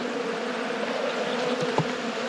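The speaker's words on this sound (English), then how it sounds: "those robber bees are fastly approaching" Robber bees swarm around a honey-filled beehive, their dense droning buzz close and continuous, with a few individual wingbeats flaring briefly above the swarm's steady hum.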